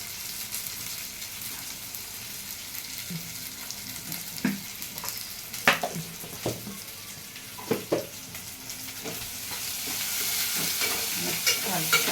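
A vegetable masala fries in oil and is stirred in a pan, with a steady sizzle under intermittent scraping and knocking of the spoon against the pan, the sizzle rising toward the end.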